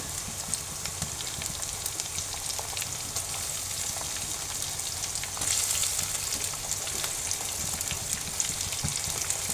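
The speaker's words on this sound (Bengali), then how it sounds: "পেঁয়াজের মধ্যে আজকে আমি মাংসগুলো একটু ভেজে নেব।" Meat pieces frying with onions in a pan give off a steady, close sizzle throughout, swelling slightly louder midway, with occasional faint clicks and no talking.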